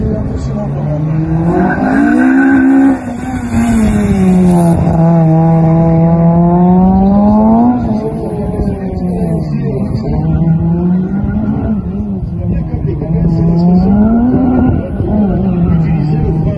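Tires squeal loudly and repeatedly on a leisure car during a slalom run, long rising and falling shrieks close by over a continuous engine roar.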